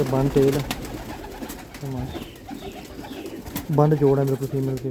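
Pigeon coos from Teddy Golden Sialkot breeder pigeons rise in soft, repeated bursts near the start and again toward the end, partly under someone talking.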